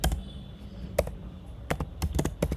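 Fingers type on a computer keyboard in close, crisp bursts of clicks with short pauses between, and nobody speaks.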